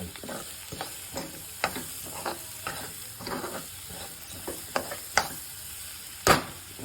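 A coconut and capsicum fry cooks on a low flame in a pan, with a steady close sizzle and repeated spatula scrapes and taps stirring the mixture, without speech.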